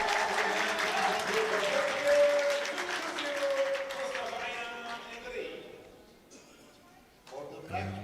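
Crowd applause at a men's 10m air pistol gold medal match, a steady broad clatter of clapping running throughout with a commentator talking over it before fading briefly near the end.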